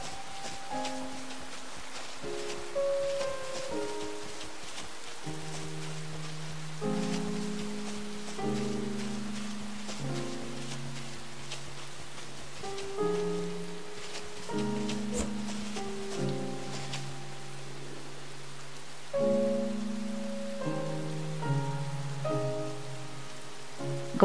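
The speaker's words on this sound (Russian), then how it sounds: "Капли дождя" Raindrops patter softly and continuously in the video game Rain, a gentle layer under slow, stepping piano-like tones.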